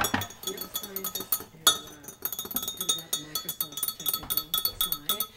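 A utensil clinks and scrapes steadily against a bowl as cake batter is stirred, bright rhythmic taps close by, with voices speaking over the stirring.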